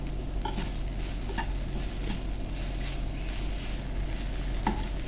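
Okra masala (bhindi masala) being stirred in a pan, with steady scraping and a few distinct spoon clacks over a constant low sizzle, close and moderately quiet, no voices.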